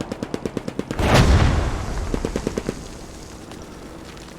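MG42 machine gun in a World War II video game, firing short rapid bursts of evenly spaced shots, broken by a loud explosion with a rumbling tail, then another burst.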